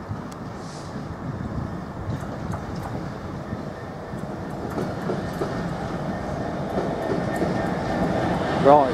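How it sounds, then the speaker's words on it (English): A Class 66 diesel locomotive hauls an intermodal freight train through a station, a steady rumble with wheel noise and rail clatter rolling past nearby for the whole stretch, faint speech mixed in. "66305 is now passing through in charge of an intermodal"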